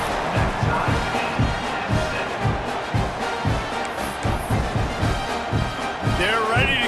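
A stadium crowd at an American football game buzzes steadily after a touchdown and extra point, a dense continuous roar with rhythmic surges throughout, close and loud, with a commentator's voice briefly cutting in near the end.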